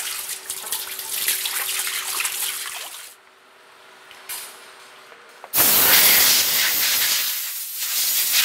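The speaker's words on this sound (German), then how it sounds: "Und danach wird nochmal gründlich geduscht, um die ganze Chemie wieder abzuspülen." A French horn being rinsed with water after an acid bath: a loud hissing spray that stops for a couple of seconds, then returns louder and rougher, close up with no voices.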